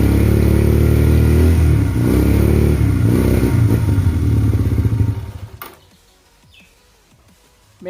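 Motorcycle engine running on homemade petrol, a loud close idle with clattery revs that sputters, fades out and dies around five seconds in, leaving near silence and small handling noises.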